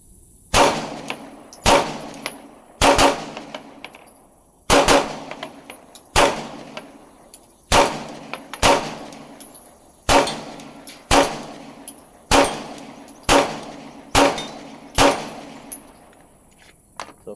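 A Glock 19X pistol fires a steady series of about fourteen loud, sharp gunshots, spaced roughly one second apart, each followed by a brief ringing decay, with no talking.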